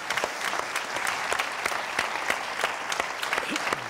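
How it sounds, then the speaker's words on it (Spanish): Audience at a Canarian parranda music show breaks into applause, a lively crowd of clapping hands with sharp individual claps standing out, steady throughout, heard from amid the audience. "nosotros te apoyamos con un aplauso como este"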